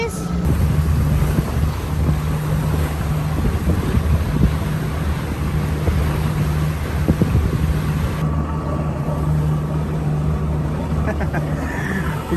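Ship engine droning during a Bosphorus boat tour, a loud steady low hum with a sustained tone, overlaid by wind buffeting the microphone and some talking.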